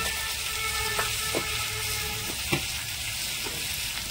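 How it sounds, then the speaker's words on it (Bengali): Spices with a little chili powder sizzle steadily in a hot pan for an eggplant and river fish dish, with a few sharp spatula scrapes and knocks as they are stirred. "এবার এগুলো আমি নেড়ে নেবো, কষিয়ে নিই এটাকে"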